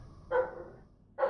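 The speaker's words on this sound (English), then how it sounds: "My dogs are just being way too loud." Dogs barking indoors in two short, loud bursts separated by a brief quiet gap, with no talk over them.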